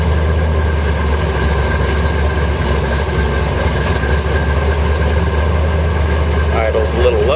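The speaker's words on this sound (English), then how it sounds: "Idle's a little low right now." A 1970 Corvette with the LT1 370 hp engine idles low during warmup, a steady deep rumble close by with no talking over it.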